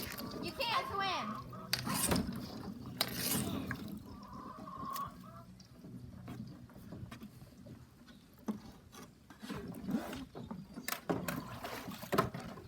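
A kayak paddled around a backyard swimming pool in winter, with intermittent splashes and sloshing strokes against the water while children shout and talk nearby.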